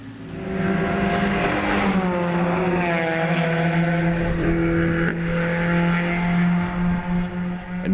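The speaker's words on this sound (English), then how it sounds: "Sports cars are fast." A sports car drives fast, its engine note rising and sweeping in pitch as it passes, loud and steady, with no voices.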